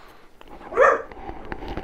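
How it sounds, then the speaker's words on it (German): A dog gives a single short yelp after being stepped on, sharp and fairly close, followed by faint soft shuffling and ticks in an otherwise quiet room. "Bist du auf den Hund getreten?"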